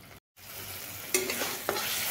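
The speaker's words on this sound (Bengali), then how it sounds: "এইবার আমি এগুলোকে একটু ভালোভাবে ভেজে নিচ্ছি।" Ridge gourd fries in a pan with a soft, steady sizzle, and two sharper clatters of stirring cut in near the end after a brief dropout at the start.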